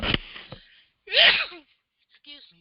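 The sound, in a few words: sneeze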